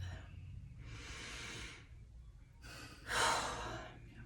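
Two slow deep breaths, each a soft airy rush. The second is longer and louder, rising to a stronger exhale, with quiet pauses between them and no talking.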